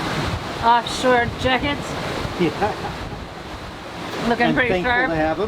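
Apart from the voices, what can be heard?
squall wind and waves while sailing offshore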